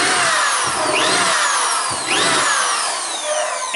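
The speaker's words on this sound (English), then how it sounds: "we're going to drill a whole bunch of holes in the bucket." A power drill whirs loudly, its motor repeatedly winding up in pitch as it bores holes into a plastic bucket, with grinding, crackling noise throughout.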